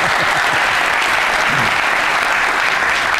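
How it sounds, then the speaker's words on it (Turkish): University audience of young people applauding, a dense, even wash of clapping that stays loud and unbroken throughout, with no talk over it. "Bir alkış alalım arkadaşlar."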